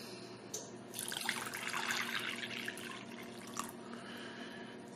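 Two cups of warm water pour into a bowl of yeast and sugar for homemade pizza dough: a soft, continuous splashing stream that swells and fades, quiet and close, with no one speaking.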